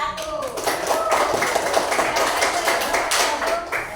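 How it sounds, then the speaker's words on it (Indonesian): Students in a ninth-grade classroom clap for a group after its presentation, a dense, steady burst of hand claps lasting several seconds with some voices mixed in. "Beri tepuk tangan untuk kelompok 1."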